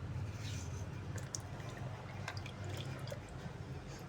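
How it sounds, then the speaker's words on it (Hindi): Potato slices dipped one at a time into a bowl of water while making French fries, giving soft drips and faint splashes over a steady low hum of room noise. "पानी में डिप करते जाना है ताकि आलू जो है हमारे काले ना पड़े।"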